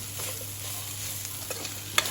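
Rice bath with mixed vegetables and garam masala stirred in a frying pan, with soft scraping and light sizzle throughout and a brief sharper clink of a spoon near the end.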